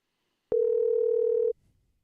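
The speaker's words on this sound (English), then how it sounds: "we'll see if we can get him on the phone here" A telephone line gives a single steady dial tone lasting about a second, starting abruptly and cutting off cleanly, alone with no talking.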